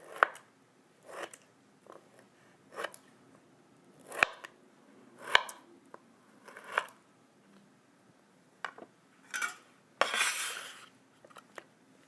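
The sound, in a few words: knife cutting kiwi in half and slicing it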